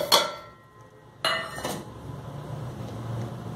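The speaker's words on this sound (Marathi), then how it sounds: "ही खडीसाखर थोडंसं बत्त्याने बारीक करून घ्यायचं" Rock sugar cracked with a pestle for thandai masala: a sharp strike at the start, then two more hard knocks near the middle, each with a bright clinking ring that fades into quiet rattling.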